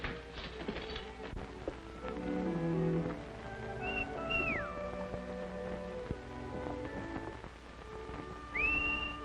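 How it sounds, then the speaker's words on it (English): A person whistles in short, rising and falling notes against a quiet background of faint clatter and light patter, with two sliding whistled phrases standing out clearly. "I could have sworn I recognized that whistle."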